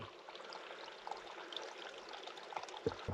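Water trickles and pours softly at a spring in the outdoors below the Mogollon Rim, a faint steady stream with a few small splashes and clicks, no talk.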